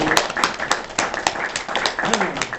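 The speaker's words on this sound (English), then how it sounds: "You can run the applause" Scattered, uneven claps from a crowd at a political campaign event at Bowling Green State University, a handful of sharp hand strikes spaced irregularly with a murmur of voices beneath.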